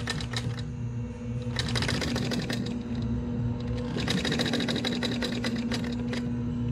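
Sewing machine stitching a handlebar pad, a steady motor hum under rapid needle chatter that comes in two long bursts with a short lull between, close and loud, no voices.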